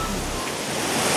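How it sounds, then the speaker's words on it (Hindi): Spring water gushes fast out of a mountainside at Chashma Shifa in Swat, Pakistan, making a steady, dense, close rushing roar that stays even throughout. "ये ऊपर से ये पानी पहाड़ के अंदर से देखो कितना स्पीड से आ रहा है।"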